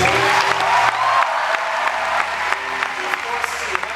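Audience clapping fills the space after a talk and song performance, a steady wash of applause with some louder individual claps and faint voices underneath.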